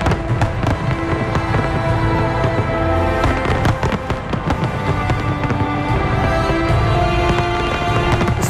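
A loud New Year's Eve display of Spanish fireworks launched from floating barges makes dense, continuous booms and crackling bursts that overlap without a break, under a musical soundtrack.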